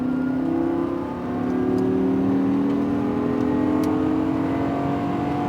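A Lamborghini Gallardo LP560-4 accelerates at full throttle down a racetrack straight, its engine note climbing steadily in one continuous, close, loud pull with no break.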